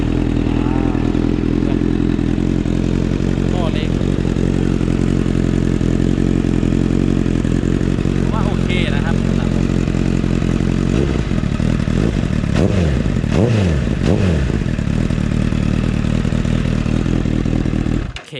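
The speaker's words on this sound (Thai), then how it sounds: "ผมจะทดสอบสตาร์ทลองสตาร์ทดู" A Honda CBR1000RR motorcycle with a modified exhaust runs loud and close, idling roughly and then blipping the throttle in several sharp revs toward the end.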